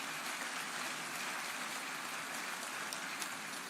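Sustained applause from an audience at a formal stage ceremony, a steady dense wash of clapping holding even and continuous throughout without any voices.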